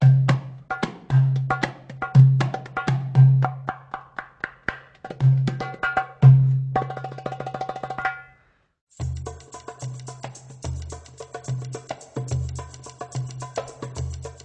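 A goblet drum plays quick strokes and a fast rattling roll, then after a brief pause continues with a dense, rapid pattern of crisp taps over low thumps.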